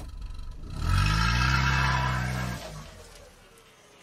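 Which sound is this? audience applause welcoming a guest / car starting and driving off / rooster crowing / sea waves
car starting and driving off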